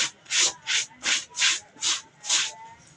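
Laundry being scrubbed with a brush by hand, seven steady rhythmic bristle strokes, close and loud, with no voices.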